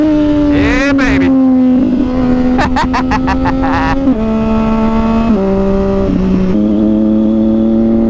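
A 2010 Triumph Daytona 675 motorcycle on a first ride, its engine note holding a steady rising whine with distinct gear-shift drops and re-climbs, loud and close, with brief talk near the start.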